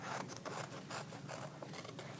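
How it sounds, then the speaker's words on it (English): Scissors cutting out a paper self-portrait for a collage, a soft continuous snipping and rustling of paper close by and faint, with no talking. "keep my scissors just outside the black line and cut very carefully"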